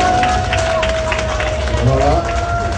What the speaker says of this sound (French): Je vous demande d'applaudir beaucoup.